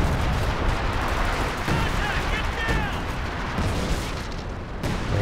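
An artillery barrage in the Company of Heroes 2 video game, heard as a dense, continuous roar of heavy rumbling impacts that stays loud and steady throughout.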